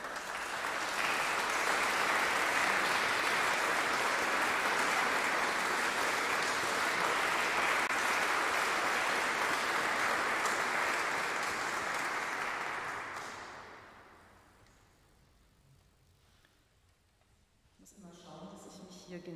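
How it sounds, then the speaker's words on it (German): Sustained applause from a concert audience inside the baroque church of St. Peter, a dense steady wash of clapping for about thirteen seconds that then fades away, leaving quiet room noise and some faint movement. "Und einen Applaus wert."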